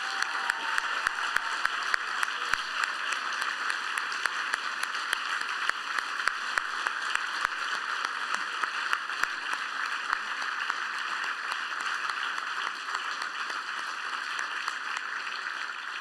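Audience applause at the end of a youth music concert in Geneva, a steady wash of many hands clapping with a few sharper claps standing out, slightly fading toward the end.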